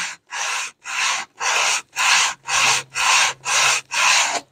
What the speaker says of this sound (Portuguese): Ponho no trilho aqui e faço aqui o círculo e faço o lixamento